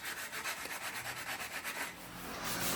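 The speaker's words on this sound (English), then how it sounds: "we're up here sanding and everything" Someone works a sander back and forth across the body of a lifted Cummins truck before painting. The scrubbing comes in a quick, regular rhythm of rubbing strokes, then swells into a heavier, sustained grind.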